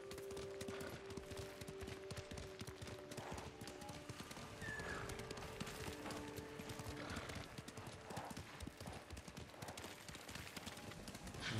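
Horse hooves gallop in the video game Ghost of Tsushima, a steady rapid clip-clop that runs without pause under a faint wash of game ambience.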